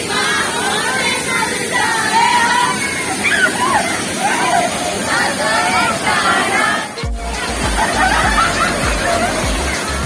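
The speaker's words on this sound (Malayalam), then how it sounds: "ഫാമിലിക്കൊക്കെ വന്ന് കുളിക്കാനും അല്ലെങ്കിൽ എൻജോയ് ചെയ്യാനും പറ്റിയൊരു വെള്ളച്ചാട്ടം ഇതാണ് കേട്ടോ" Vattayi waterfall in Thrissur rushes in a steady, broad roar of falling and splashing water, with a crowd of people chattering and calling in the background throughout.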